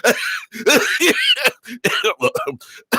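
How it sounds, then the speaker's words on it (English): Several loud, harsh coughs in quick bursts, close to the listener, with a bit of throat clearing and laughter mixed in. "I can't do it if y'all coughing on me."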